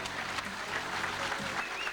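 Steady crowd applause and cheering at a 1999 Bassmasters bass fishing tournament weigh-in at Old Hickory, sustained at even loudness for the whole stretch.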